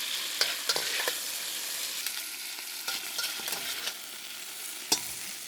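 Szechuan duck stir-frying in a wok, a steady bright sizzle with repeated sharp spatula scrapes and clacks at an uneven pace, one louder strike near the end.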